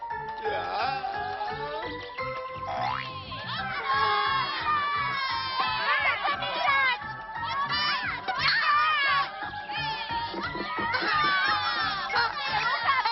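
Young insects in the Maya the Bee cartoon shout and squeal noisily as a chattering, high-pitched crowd, with tinkling tones and busy overlapping cries throughout.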